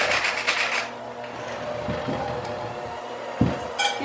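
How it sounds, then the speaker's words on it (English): A salt grinder is twisted to grind salt, producing close gritty rasping bursts at the start and end with quieter scraping and small clicks between, with no talking. "I'm going to grind some salt."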